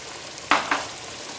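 A spoon scrapes twice through a pan of braising sauce made with soy and oyster sauce, two short sizzling strokes close by over a soft background hiss.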